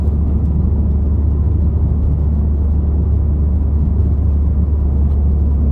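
Exhaust drone from a Ford F truck cruising at light throttle: a constant, loud low-pitched hum with an engine rumble beneath, steady and unchanging, with no voices.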